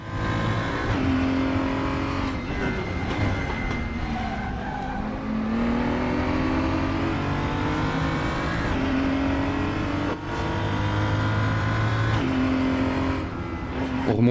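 A BMW M235i Cup race car roars continuously at Sonoma in the RaceRoom racing game, its engine rising and falling through gear changes with occasional tire squeal, loud and close throughout.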